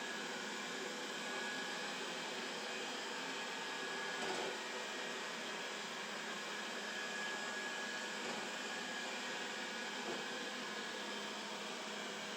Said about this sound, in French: Vous voyez que la brosse rotative ralentit à l'approche du câble.